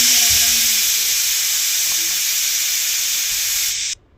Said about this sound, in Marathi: आपण कुकरला झाकण लावून शिट्ट्या करून घेऊया